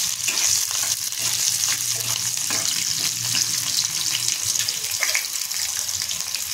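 Peanuts and green chillies stir-fried in a pan for a fasting-day dish, with a steady, close, loud sizzle and crackle throughout, broken by occasional scrapes and clinks of a spatula stirring.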